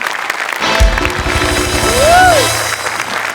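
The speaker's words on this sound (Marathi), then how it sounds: "दोघांसाठी मी उभा राहून टाळ्या वाजवतो." Applause on the set of a Marathi comedy television show, a burst of clapping with a rising-and-falling whoosh effect and voices mixed in.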